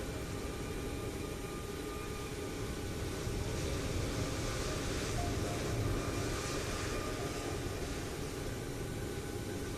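Steady, continuous drone of an airplane engine in a flight simulator game, a broad even roar that holds at a constant level throughout with no talking.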